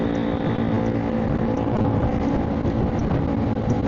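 A Zontes 400G motorcycle's exhaust drones steadily and loudly while riding through Metro Manila traffic, a continuous close engine roar with no pauses.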